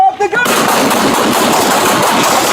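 Six Oklahoma City police officers open fire on a suspect pointing a gun, a dense, very loud burst of overlapping gunshots that fills the clip right after a shouted command.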